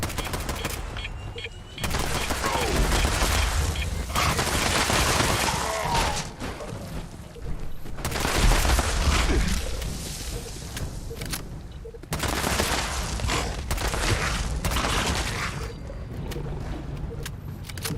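Gunfire in Fallout 76, with rapid bursts of shots in dense volleys, loud and near, separated by brief lulls, over a busy game background.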